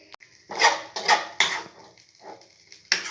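Ragi semiya upma being stirred in a pan: several separate scraping, clattering strokes of a utensil against the metal with short pauses between them, close and fairly loud, no talking.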